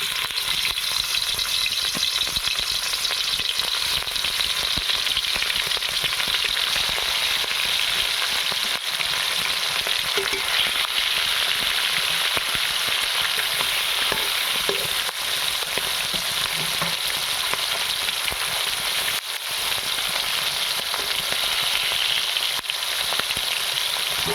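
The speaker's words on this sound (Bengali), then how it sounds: "এবারে মাছটা ভালো করে লাল লাল করে ভেজে নেব।" Snakehead fish pieces coated in salt and turmeric fry in hot oil, giving a steady, dense sizzle and crackle that continues evenly throughout, with occasional soft stirring noises and no talk.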